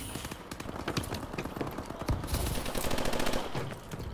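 Rapid automatic gunfire from the video game Call of Duty Advanced Warfare crackles in fast bursts and sustained rattles, close and loud, with other game effects mixed in.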